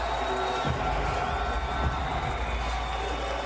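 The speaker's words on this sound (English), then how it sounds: "Love from the Saudi crowd for Francis Ngannou." A Saudi arena crowd cheers for heavyweight fighter Francis Ngannou at a boxing event. The roar is broad and steady, with a commentator speaking over it.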